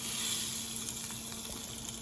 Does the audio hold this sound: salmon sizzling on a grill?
yes